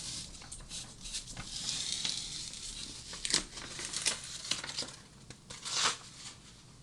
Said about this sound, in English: this Goody product really works really well to allow you to peel back that backing paper